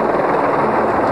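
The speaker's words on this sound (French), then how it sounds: "Ou survoler un champ de maïs en hélicoptère." A helicopter flies over a cornfield, a steady broadband rotor and engine roar that stays loud and even for a second or so, with no voices.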